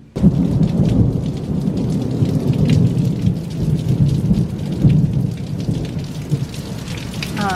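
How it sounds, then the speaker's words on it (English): A thunderstorm with heavy rain around a house gives a constant rain hiss and a deep rumbling thunder roll throughout, loud and close, with no talking. "The thunder that I just heard just shook the whole house."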